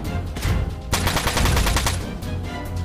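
Machine gun fire from a mech battle in Front Mission 4 at Port Cumana, two loud close bursts of rapid shots, the second longer and sustained, with no talk over it.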